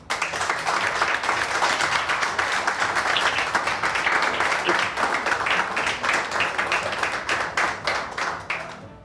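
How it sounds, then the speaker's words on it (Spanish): Loud, sustained applause on a cooking competition set, many people clapping in a fast, even rhythm that carries on for several seconds before tapering into scattered claps. "Te despido con un fuerte aplauso."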